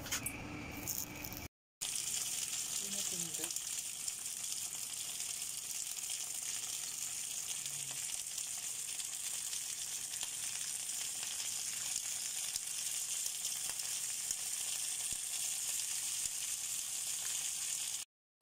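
Steady, loud sizzling and crackling of fish cakes with chili frying in hot oil runs continuously for the whole stretch, with a brief clatter near the start.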